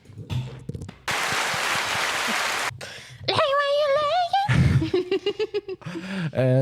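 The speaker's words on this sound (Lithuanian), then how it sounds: "Plojimai." A burst of applause, a dense crackling clatter of clapping lasting under two seconds amid a noisy stretch with other voices and sounds around it.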